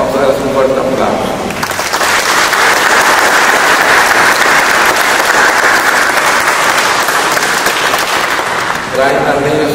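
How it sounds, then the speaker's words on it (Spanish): Wedding guests at a church ceremony burst into loud, sustained applause for the newly married couple, with a voice speaking briefly before and after the clapping. "vamos a darles un fuerte aplauso"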